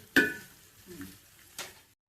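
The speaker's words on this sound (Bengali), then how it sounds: "এখন আবার একটু সুন্দরভাবে নেড়ে চেড়ে দিতে হবে।" A spatula scrapes and stirs a tomato, chilli and prawn curry in a pan, two sharp metallic scrapes about a second and a half apart with a faint soft stir between them, close and without talk.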